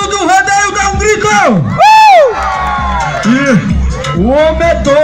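A rodeo crowd cheers and shouts loudly, with whoops, rising yells and a sharp burst of screaming over a dense hubbub of voices, close and energetic throughout.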